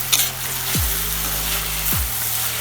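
Onions frying in coconut oil for a Kerala-style egg roast give a steady, close sizzle, loud and continuous, with no one talking.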